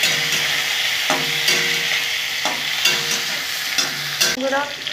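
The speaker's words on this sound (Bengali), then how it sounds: "আমি এখন বেগুনগুলো একটু ভেজে নেব" Eggplant pieces frying in hot oil for a fish curry, loud close sizzling with regular stirring strokes and spatula scrapes about once a second.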